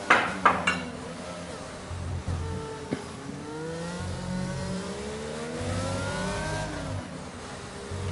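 Formula One car engine at full throttle in a racing video game on a Mexico circuit: a high, rising whine climbs through several gear changes, loud and close, with a few sharp knocks near the start.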